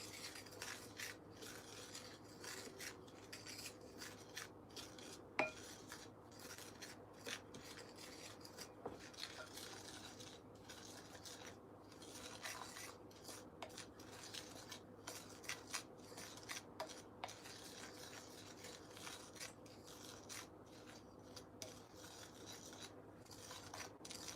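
Dry ingredients including cheese stirred in a bowl, a soft continuous scraping and rubbing with occasional light clinks, quiet and without talk.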